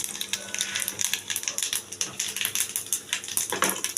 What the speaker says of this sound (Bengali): এখন আমি ফোড়ন দিয়ে দিচ্ছি।